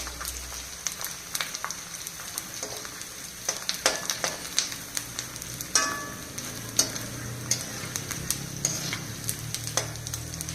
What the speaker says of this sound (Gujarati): આ પહેલાં ગુંદર છે ને એ આપણે તળી દઈશું